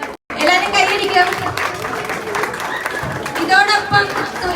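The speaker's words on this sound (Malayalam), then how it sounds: "എല്ലാരും കൈയടിക്കും" Applause and clapping from a crowd at a family get-together at White Gate Hotel, Vaikom, as a father is honoured on stage, with voices talking over it throughout.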